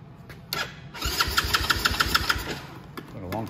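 A Venom X20 125cc motorcycle, long unused and choked, cranks briefly, then catches and fires into a rough, rapid, uneven putter close by, settling toward idle.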